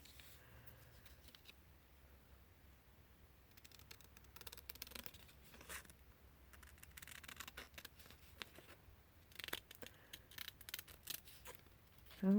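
Paper being cut with scissors for a junk journal cover, a quiet series of soft snips and rustles at close range, with no talking.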